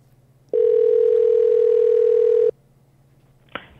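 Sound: telephone dial tone while placing a call

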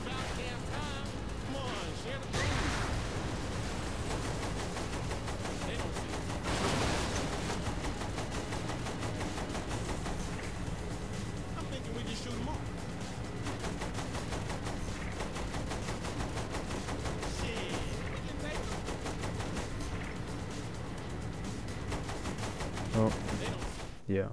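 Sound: machine gun firing in video game Saints Row 3

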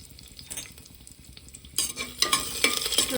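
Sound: cumin, curry leaves and garlic sizzling in hot oil

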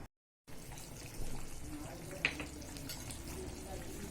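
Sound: vegetable curry boiling in a pan

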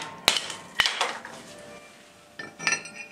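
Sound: hatchet tapping kiln-dried wood on concrete to split it

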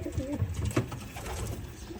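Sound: pigeons cooing in a loft

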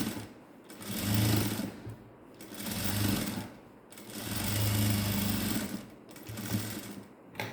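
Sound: sewing machine stitching a ladies' pant seam

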